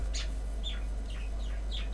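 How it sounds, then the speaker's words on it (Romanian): Parrots in a video game give a few sharp chirping calls spaced through a steady low hum, each brief and moderately loud, with no talking over them. "Da, papagali."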